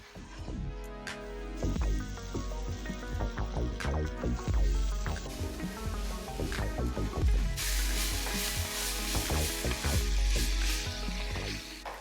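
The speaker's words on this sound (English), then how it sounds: "Stir, leave it there for a bit, and then add in the grated potatoes." Grated potatoes with garlic cooking in a pan, a soft sizzle under clattering and stirring knocks, with the frying growing louder and more hissy in the second half.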